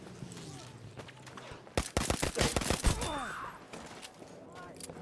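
A short burst of gunfire from a Battlefield V match, a quick cluster of sharp shots in the middle rising above steady battlefield ambience, with a player talking faintly.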